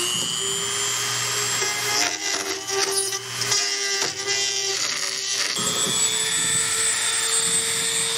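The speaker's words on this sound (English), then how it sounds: "It has a cutting rotary type file at the end, and this makes really quick work of this." A cutting rotary file bores out the hollow of a turkey wingbone for a call, giving a steady high whining drone with uneven rasping grinds through the middle as the bit bites into the bone, close and continuous with no talk.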